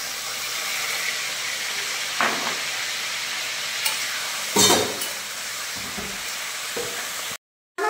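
Large prawns fry in hot oil with a continuous hiss and sizzle, and a few scraping stirs and clanks of a utensil stand out briefly before the sound cuts off near the end.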